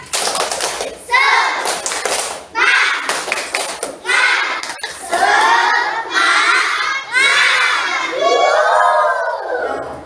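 A class of fourth-grade children perform the tepuk semangat clapping chant together, loud rhythmic bursts of shouted words and claps in repeated short phrases with brief pauses between.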